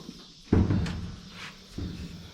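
A car door, the original door refitted on the vehicle, shuts with a solid thud, followed by a second softer close about a second later, near and without talk.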